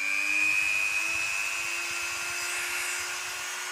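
A Nankai mini grinder runs on its own with a steady, high, whining motor tone at moderate volume, easing slightly toward the end.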